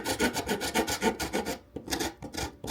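Painted wood on a thrifted cabinet is rubbed with a spoon or butter knife, a close rhythmic rasping scrape in quick repeated strokes, pausing briefly before a few more passes.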